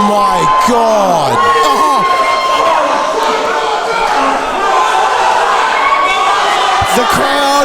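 A wrestling event crowd cheers and whoops loudly throughout, with shouting voices rising and falling and a few sharp slams cutting through the roar.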